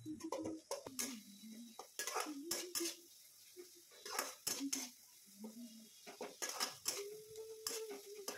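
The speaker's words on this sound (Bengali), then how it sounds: "মশলা এবার ধীরে ধীরে কষতে থাকবো" Spice paste being stir-fried in a pan for a cabbage and eggplant dish, with repeated clanks and scrapes of a spoon against metal between pauses, sizzling faintly beneath, while a voice speaks briefly.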